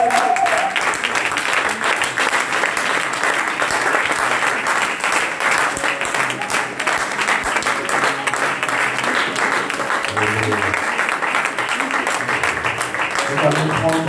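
A church congregation applauding during a prayer service, sustained dense clapping throughout with a voice speaking over it near the end.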